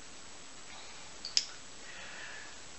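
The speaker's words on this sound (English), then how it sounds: "Watch as I put the head joint into the top of the flute body." A flute head joint fitted into the top of the flute body makes a single sharp, close metallic click in an otherwise quiet room.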